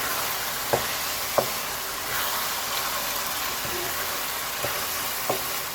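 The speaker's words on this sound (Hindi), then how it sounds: "अब हम इसको अच्छी तरह से भूनेंगे। जब तक कि ये गाजरे से अलग ना हो जाए," Grated carrots fry in ghee in a pan for Gajar ka Halwa, giving a steady broadband sizzle with a few sharp clicks of the stirring spoon scattered through it. No one speaks.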